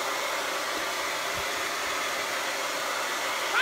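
A hair dryer dries paint on a clipboard with a steady, close, continuous blowing roar that holds level throughout, with no talking.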